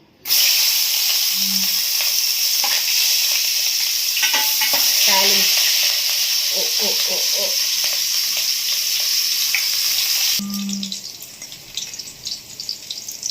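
Half an onion and two green chillies frying in a generous amount of oil for crab curry, a loud steady sizzle with occasional stirring clinks, close up and without talk.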